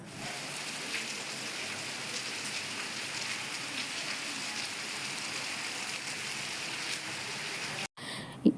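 Steady rain falling in a village, a dense, even hiss that continues throughout, with a brief gap and a small thump near the end.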